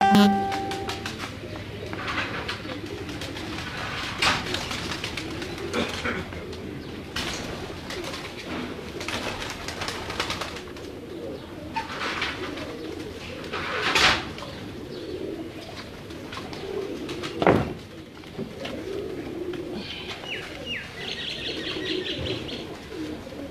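Salaty pigeons coo softly amid flapping wings and scattered chirps, with a few louder bursts of movement near the birds throughout.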